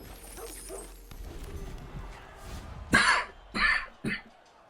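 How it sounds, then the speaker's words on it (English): Three harsh coughs come close together near the end, after a stretch of quiet talk from a man playing an online card game. They are near and loud, set against a low background. "Excuse my cough."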